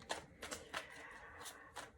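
A deck of cards is shuffled by hand up close, with a series of quick riffling bursts in an uneven rhythm, fairly soft and with no talking.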